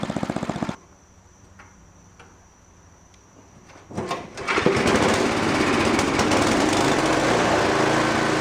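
A Noma 8 hp, 27-inch snow blower engine: a steady idle rattles along, drops away to near quiet with faint ticks, then catches again with a bang and roars back into a loud, even running note.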